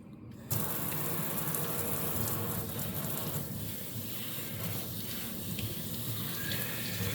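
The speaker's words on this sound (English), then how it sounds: "Now I'm going to go and wash it underneath the kitchen sink" Water from a kitchen sink tap gushes steadily as a GE Profile washer/dryer combo lint filter is rinsed, starting abruptly and running loud and close throughout.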